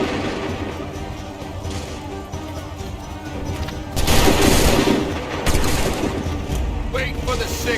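Volley of gunfire from a group of shooters, a dense rattling fusillade with heavy bursts of shots and crashing impacts, louder in the second half, with shouted voices mixed in.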